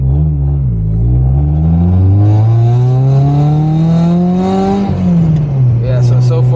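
A port-injected car accelerating hard, its engine note climbing steadily through the revs for several seconds before easing off and settling, loud and close from inside the cabin, with a short burst of noise near the end.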